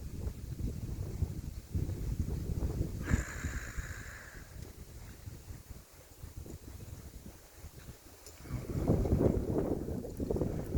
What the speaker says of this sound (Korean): 또 갑작스레 바람이 좀 붑니다.